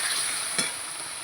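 Food sizzles steadily in hot oil in a pan with turmeric and a little salt just added, with a brief stirring scrape in the middle; close, continuous and hissy, no talking.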